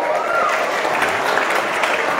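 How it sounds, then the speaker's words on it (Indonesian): An audience at a Teachers Day celebration at an Islamic boarding school in Lhokseumawe, Aceh, clapping in a loud, steady burst of applause throughout. "Tepuk tangan lagi."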